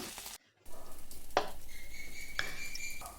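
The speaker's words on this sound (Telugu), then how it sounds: "అందులోకి పుదీనా కొత్తిమీర కరివేపాకు అల్లం వెల్లుల్లి తర్వాత జీలకర్ర అన్నీ వేసుకొని కొద్దిసేపు వేయించుకోవాలి ఆయిల్తో" Green chillies, mint, coriander, curry leaves, ginger, garlic and cumin frying in a little oil, a soft steady sizzle, briefly cut off, with a few sharp utensil scrapes and taps.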